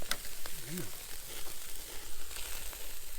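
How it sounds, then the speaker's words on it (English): Bacon fries over an open campfire outdoors, a steady close crackling sizzle with a short low voice-like hum early on. "quickly while my bacon is burning on the fire"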